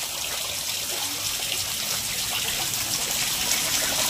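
Heavy rainwater from Cyclone Dana pours and trickles steadily, a continuous near, broadband rush with no talking.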